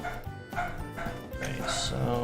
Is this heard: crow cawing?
no